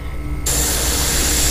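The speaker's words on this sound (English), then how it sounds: "as steady as you can, spray left to right, all the way back to the tail." A spray can hissing paint onto a fishing lure, starting abruptly after a brief quiet moment and then holding as a steady, close, loud hiss.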